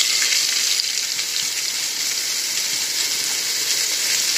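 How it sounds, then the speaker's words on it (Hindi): Chopped bottle gourd sizzling steadily in a hot pan with chopped green chillies while cooking Patanjali mixed dalia, a loud, even hiss of frying that holds throughout, without any voices. "अपनी कटी हुई लौकी हम डाल देंगे"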